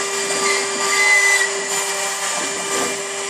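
A Denford CNC mill's cutter spinning at about 23,000 rpm machines a wooden car body, giving a steady, loud high-pitched whine with a constant tone and a rough grinding hiss throughout.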